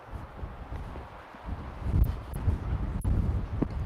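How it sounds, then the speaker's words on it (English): Strong gusting wind buffets a microphone outdoors, a rough low rumble that swells and grows louder in the second half with brief sharper knocks, no talk. "Wow, it's pretty windy."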